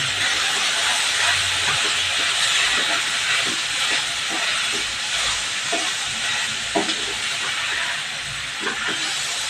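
A pressure cooker of cluster bean vegetable on the stove releases steam, a loud continuous rushing hiss that holds steady with faint knocks beneath it.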